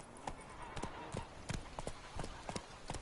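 Horse hooves clip-clop at a steady walking rhythm in The Witcher 3, with regular close thuds and a voice speaking over them.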